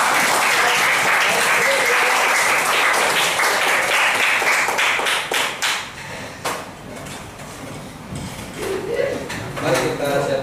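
Classroom of students clapping together, loud and dense at first, then breaking into scattered, uneven claps as it tapers, with voices talking at the end.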